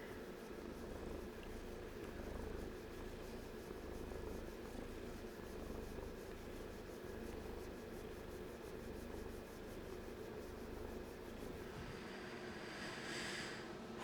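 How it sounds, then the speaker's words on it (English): A house cat purrs in a steady, low, rumbling drone held close to the microphone, faint and continuous, with a brief soft sound near the end. "you purr for everyone?"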